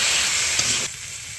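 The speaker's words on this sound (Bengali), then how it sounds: "নামিয়ে এই তেলের ভিতর কফিগুলো ভেজে নেব" Turnip pieces fry in hot mustard oil in a pan after fish has been fried, giving a loud, dense sizzle that cuts off abruptly into a quieter background partway through.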